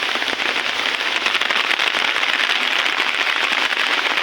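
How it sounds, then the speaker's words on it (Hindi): A downpour lashes a waterlogged farm field at Kanke in a constant close, loud roar of dense rainfall, heard from under an umbrella without any voices. "आज बहुत दिनों के बाद बारिश हो रहा है जोरदार।"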